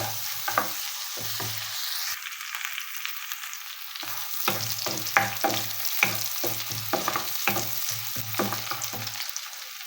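Onions frying in oil in a pan for a Bengali silver carp fish curry with vegetables, with a steady soft sizzle broken by a series of short scraping stirs, close and moderately loud, no talking.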